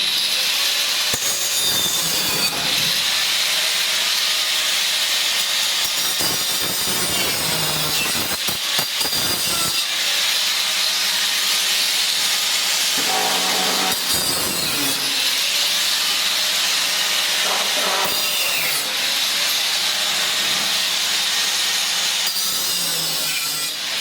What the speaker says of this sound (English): what I'm doing now is just a 4-inch grinder, going around cutting all them screw heads off, getting them down as low as I can